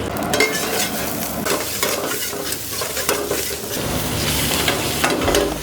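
Mutton keema frying and being stirred on a busy street-food griddle, a steady loud sizzle with scraping stir strokes throughout, no voices.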